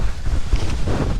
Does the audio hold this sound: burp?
no